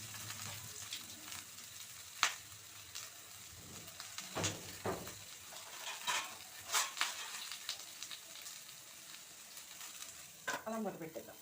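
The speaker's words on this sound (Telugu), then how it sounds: "బచ్చలు కూడా వేసి బచ్చల్లో ఉండే తడికి ఆ ముక్కలు వేగుతాయి." Vegetable pieces frying with moist greens in a pan, a steady soft sizzle with scattered crackles and the occasional scrape of stirring, close and fairly quiet.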